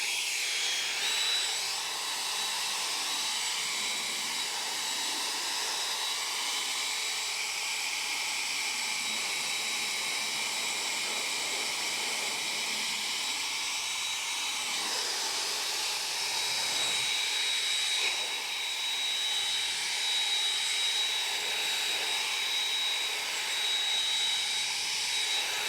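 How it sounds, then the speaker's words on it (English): An Ego 880 CFM leaf blower roars continuously while drying a car, a steady high-pitched rushing whine with slight shifts in tone as it sweeps across the panels. "now that the drying process is over with, thanks to the awesome Ego 880 CFM leaf blower"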